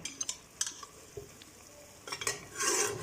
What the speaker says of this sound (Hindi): इसके बाद हम लोगों ने इसको अच्छे तरीके से फ्राई कर लेना है।